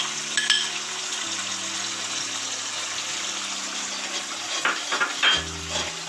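Thick tamarind puliyodara mix with asafoetida being stirred in a frying pan, a continuous soft sizzle with occasional scrapes and knocks of a spoon against the pan, close and alone.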